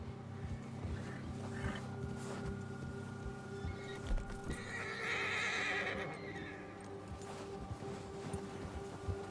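A horse whinnies and stamps its hooves in the Red Dead Redemption 2 video game during a spring storm, the neigh rising mid-clip over a steady low rumble of ambient game sound and scattered hoof thuds.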